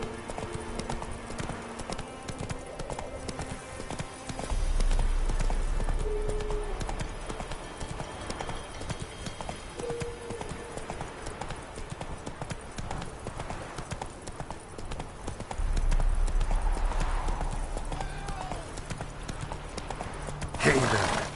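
Horse hooves clip-clopping steadily at a walking pace while riding through a swamp in The Witcher 3: Wild Hunt, a continuous rhythmic clatter with a brief snort or whinny and some quiet game voices underneath.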